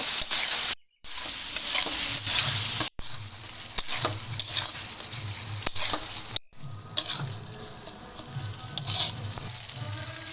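Masala paste for noodles is stir-fried in a pan, with a continuous close sizzle and repeated scraping strokes of a spatula against the pan, plus a few short dropouts.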